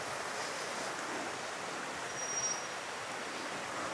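Water flowing through a misty forest, an even, continuous rushing hiss with no pauses, steady and moderately loud, with no voices.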